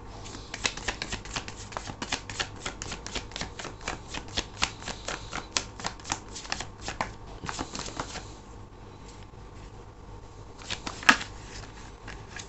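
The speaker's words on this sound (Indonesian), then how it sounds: "Aku akan ambil 10 kartu dan kita juga akan lihat bottom of the deck-nya ya." A deck of tarot cards is riffled and shuffled in quick, crisp bursts of papery flutters for several seconds. The shuffling pauses, then a single sharp card snap or draw follows near the end, all close and dry.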